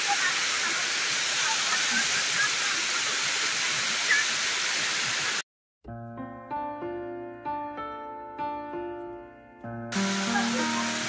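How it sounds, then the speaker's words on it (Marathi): A roadside waterfall roars as a steady, loud rush of broadband water noise, cut off midway by a few seconds of layered tonal sound before the torrent returns. "आणि हा वॉटरफॉल आहे ना खूप छान आहे"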